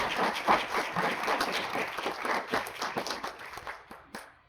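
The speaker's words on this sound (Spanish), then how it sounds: "aplausos" Applause at the close of an academic talk, a round of many hands clapping at moderate level that thins out toward the end, with a few sharper individual claps standing out.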